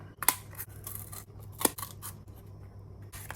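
Scissors cut through cardboard in a few crisp, close snips with sharp bright clicks, spaced irregularly and mixed with soft scraping between cuts.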